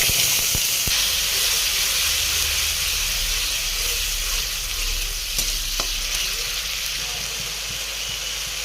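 Tomato paste made from a large ground tomato hits hot oil with spices, a loud, dense, steady sizzle with a few sharp stirring knocks, close up.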